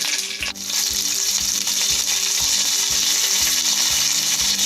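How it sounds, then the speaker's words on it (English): Cinnamon, cardamom and green chilies fry in a tablespoon of oil, giving a loud, steady close sizzle under a rhythmic low clatter of stirring. "I am adding 1 tablespoon of oil. Just add cinnamon, cardamom, green chilies"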